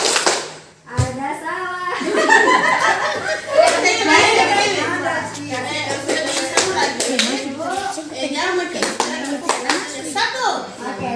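Group clapping game led by a trainee teacher at a school sharing session: a steady run of sharp claps across the room, with children and adults talking and calling out over and between the claps.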